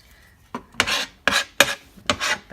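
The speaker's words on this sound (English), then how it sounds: "Back of my knife to scrape it all together." A knife blade's back scrapes chopped garlic and onion together on a cutting board, giving four short rasping strokes in a steady rhythm, close and fairly clear with no talking.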